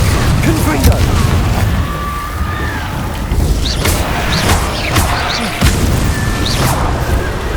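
Repeated Confringo fire spells blast in Hogwarts Legacy, dull booming impacts alternating with other spell effects over game music, while a voice calls out the spell names in rhythm.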